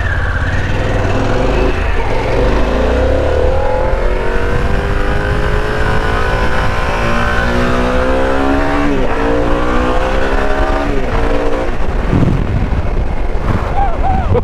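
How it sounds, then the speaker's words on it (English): A 2021 Harley-Davidson Pan America Special motorcycle engine revs loudly and close, rising and falling through repeated climbs in pitch, with wind and road noise around it and someone talking over parts of it. "It has none of the characteristics of a normal Harley engine."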